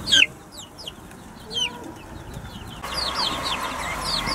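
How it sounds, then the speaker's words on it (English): A hen and her chicks let out from a chick run cluck and peep outdoors, with scattered high chirps and a few soft clucks over a steady background hiss. "we let the chicken and the chicks out of the chick run"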